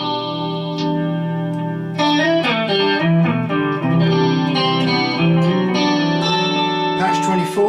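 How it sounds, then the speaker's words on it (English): Spatial delay patch on an electric guitar through a Vox AC4TVH amp with a Vox Tonelab ST: sustained chords and picked notes ring out continuously, smeared with chorus-like shimmer, echoes and reverb trailing each phrase, loud and up close. "This is a lovely spatial delay sound."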